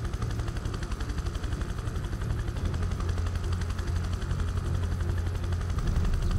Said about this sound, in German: Müssen wir sie jetzt abholen. Mit dem Heli.